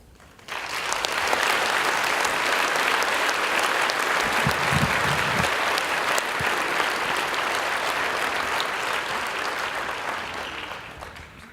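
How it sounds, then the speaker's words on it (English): A conference audience applauds speaker Doc Norton at an agile event, steady and full for about ten seconds, swelling quickly at the start and tapering off at the end. "Another round of applause for Doc Norton."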